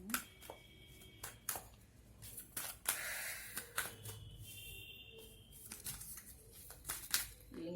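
Tarot cards shuffled by hand during a card reading, giving a run of soft papery riffles and flicks with sharper clicks scattered through, close and fairly quiet, with no talking.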